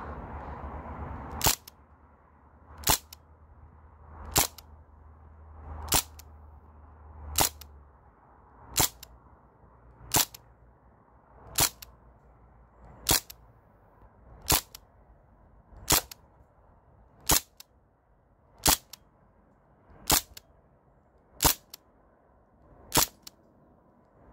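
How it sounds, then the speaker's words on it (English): A Crosman DPMS SBR CO2 BB gun fires semi-auto, sixteen crisp sharp cracks at a steady pace of roughly one shot every 1.5 seconds, close and loud against a quiet background. "right now I have it on uh, semi-automatic and I'm just gonna shoot a couple shots"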